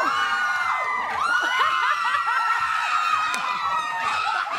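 A large crowd at a P-pop group show cheers and shouts continuously, with high screams and whoops rising over a loud, sustained roar.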